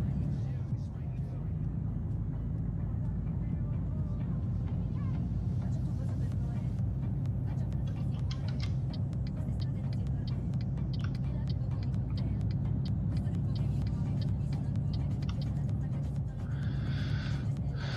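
A truck engine drones steadily while driving in Euro Truck Simulator 2, a continuous low rumble running throughout with voices talking over it at intervals.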